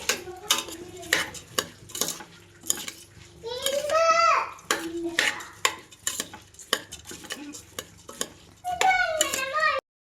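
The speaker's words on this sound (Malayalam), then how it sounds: "റൈസ് ആഡ് ചെയ്തിട്ട് നന്നായിട്ടൊന്ന് മിക്സ് ചെയ്തെടുക്കണം" Rice being stirred into beef biryani masala in a pot, a quick run of scraping and clacking spoon strokes against the metal, close and fairly quiet, with a voice chiming in now and then.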